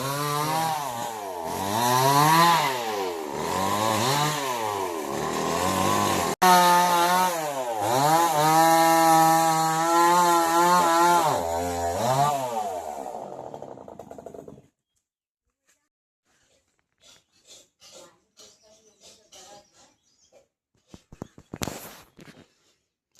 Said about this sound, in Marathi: मशीननी फांद्या पाडल्या जातात त्याच्या.